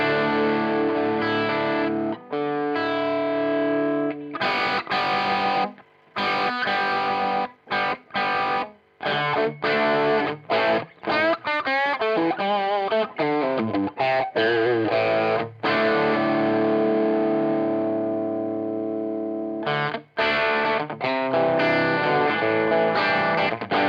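Electric guitar runs through an MXR DD25 Dookie Drive distortion pedal, with clean and effected signal blended, playing loud crunchy chords and riffs with brief pauses between phrases.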